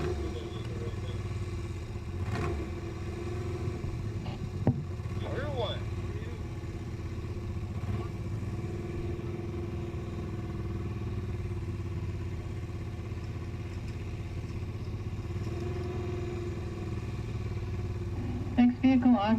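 A D Fuel modified mini pickup from Brad's Machine and Fabrication sits at the Bonneville Salt Flats start line, its engine running steadily at mid distance under an announcer's voice, with a few brief clanks near the end.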